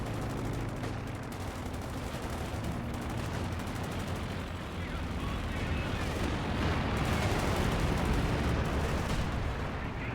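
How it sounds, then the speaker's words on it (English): A grenade blast and gunfire from a World War II tank battle game with Shermans and Panthers form a constant rumbling wall of artillery, explosions and shots, with a voice talking over it. "Nice grenade as well from Pax."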